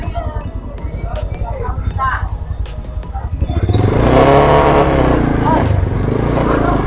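A Kawasaki Z200X motorcycle engine, freshly tuned up, runs and revs near and loud, with talk over the quieter first half before the engine noise swells and holds steady.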